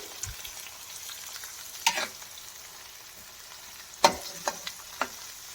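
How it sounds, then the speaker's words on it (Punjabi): Egg bhurji fries uncovered in a pan, a quiet continuous sizzle broken by a few sharp clatters and scrapes from stirring. "ਇਹਨੂੰ ਆਪਾਂ ਹੁਣ 2-4 ਮਿੰਟ ਇਦਾਂ ਹੀ ਬਿਨਾ ਕਵਰ ਕੀਤੇ ਇਹਨੂੰ ਫਰਾਈ ਕਰਦੇ ਹਾਂ"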